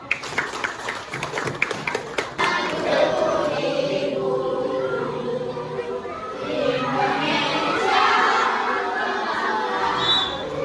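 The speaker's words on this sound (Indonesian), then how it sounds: "Oke, tepuk tangan dulu" Schoolchildren in a classroom clap together, a patter of claps that starts scattered and swells into a steady, fairly close round, with young voices chattering underneath.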